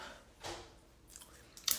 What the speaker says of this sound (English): I'm chewing on a cookie that I should not be chewing on